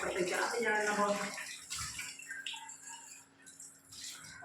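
Water rushes and splashes inside a tea thermos as it is rinsed out, a loud sloshing gush at first that thins into quieter trickles and rattles, with a voice talking over part of it.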